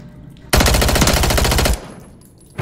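Automatic gunfire in a shooter video game, a rapid loud burst of evenly spaced shots lasting just over a second, then quieter background before another shot begins at the end.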